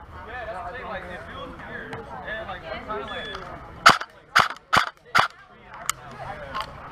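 An airsoft gun fires during a target speed drill, five sharp close shots in quick succession after a stretch of talking, with one or two fainter clicks following.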